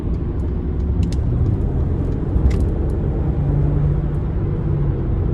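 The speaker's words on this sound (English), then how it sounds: "So just driving here, cruising here right at around 70." A twin-turbo V6 Mercedes-Benz convertible cruises at highway speed, about 70 mph, with a steady, close road and wind roar and a constant engine hum throughout, no voices.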